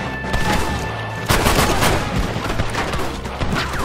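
Gunfire in the Red Dead Redemption video game: a loud, dense run of sharp shots cracking in quick succession, with a heavier burst of overlapping blasts partway through and no voices.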